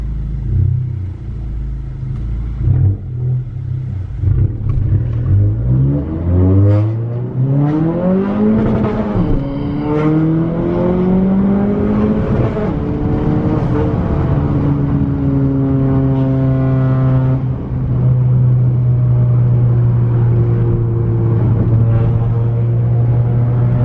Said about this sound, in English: I'm gonna do a quick first gear pull real quick